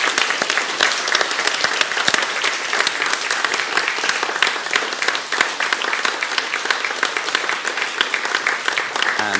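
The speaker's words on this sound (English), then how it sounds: "let's all give them a round of applause" An audience at St Martin's school Speech Day applauds Year 8 pupils, with dense, steady clapping from a large crowd filling the hall, close and sustained throughout.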